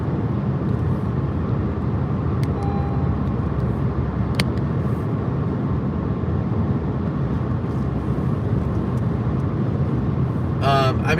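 A smooth-riding car cruises along a highway on a road trip from Montgomery, Alabama, toward Jacksonville, Florida, with a steady low road and engine rumble heard from inside the cabin throughout.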